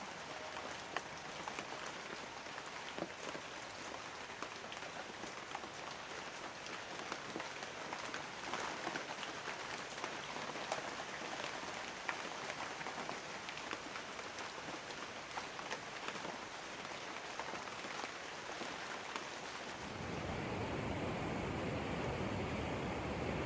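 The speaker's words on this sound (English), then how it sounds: "The prolonged rainy spell soaks through the island." Steady rain falls through forest on Pico Island in the Azores, a dense continuous hiss of drops on leaves that turns heavier and fuller near the end, with no voices.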